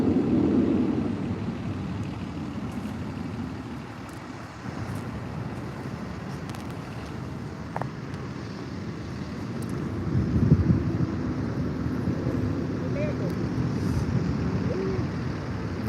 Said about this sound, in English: These planes are practicing.